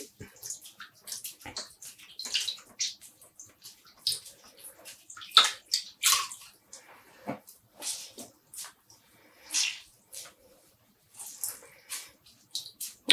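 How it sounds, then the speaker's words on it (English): Irregular wet splashes and sloshing as cold rinse water is squeezed and wrung out of freshly dyed yarn, close up, in short bursts separated by quiet pauses. "And squeezing out the water."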